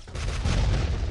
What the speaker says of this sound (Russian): Давайте используем авиаудар.